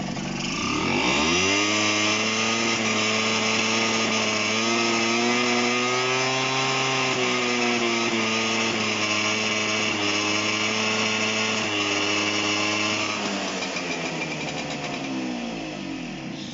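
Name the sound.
Honda SH50 scooter engine revving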